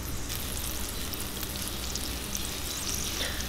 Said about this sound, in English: This case it's butter, and I'm going to add in some rosemary that I picked from the garden, and I'm going to simmer it